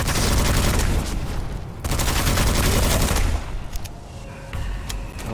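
Dense gunfire in the Witchfire shooter game, with enemy snipers firing from range: loud, continuous crackling shots and booms layered almost without pause, thinning a little toward the end.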